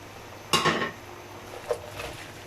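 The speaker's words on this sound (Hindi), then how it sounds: "अब हम अपने ये जो चिकन हम लोगों ने फ्राई किया ये इसके अंदर ऐड कर रहे हैं और मिक्स करेंगे" Fried chicken tossed into orange sweet-and-sour sauce in a pan, with one sharp metallic scrape and clatter of a utensil against the pan, then a softer second knock, close and alone.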